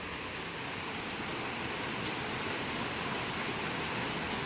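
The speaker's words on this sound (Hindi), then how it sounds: "कितनी ज़बरदस्त बारिश हो रही है।" Heavy rain falls outside a balcony, a soft, even hiss of downpour with no breaks, quiet and somewhat distant.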